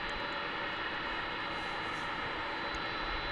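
An airplane at DFW International Airport on the west side, preparing to take off on runway 18 right, producing a steady, broad engine roar at moderate distance, continuous and unbroken with no voices.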